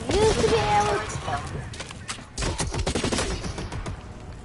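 Rapid bursts of video game gunfire crackle in a steady stream, mixed with a voice talking over the shots throughout.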